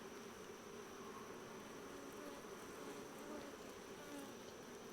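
A continuous close hum of many honey bees rises from an open hive, even and unbroken throughout, with no voices present.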